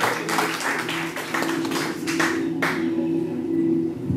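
Audience at a stage hypnosis show claps in a steady patter of many hands, fairly close, with a sustained musical tone running underneath throughout.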